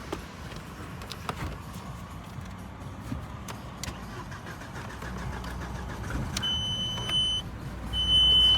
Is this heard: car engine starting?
yes